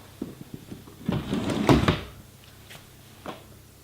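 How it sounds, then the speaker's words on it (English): An under-bed storage drawer with no handles is tugged open, giving a few small knocks and then a louder sliding rumble before it settles, with one more light bump afterward. "I actually have these awesome drawers under my bed that hold everything"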